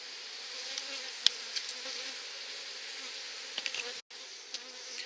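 Many honey bees buzz inside a hive in a continuous, droning hum close by, with a few sharp clicks and brief knocks breaking through.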